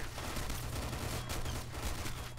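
Sustained enemy gunfire in a Half-Life game, a dense rattle of rapid shots rolling on continuously at moderate loudness.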